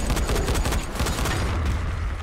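Rapid gunfire in the video game Dying Light rattles continuously as a dense, loud burst of automatic shots with no pauses and no voices.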